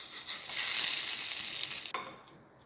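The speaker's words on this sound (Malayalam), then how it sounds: "ഇനി വറുത്തിടാം. കടുകും വറ്റൽമുളകും" Mustard seeds, dried chillies and curry leaves hit hot oil for a tempering with a loud burst of sizzling and crackling. The frying swells, then cuts off sharply and fades to a lighter sizzle near the end.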